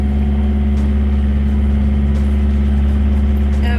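A sailboat's inboard engine drones steadily while motor sailing offshore with the sail up, a loud, constant low hum with a strong fixed tone and no talk.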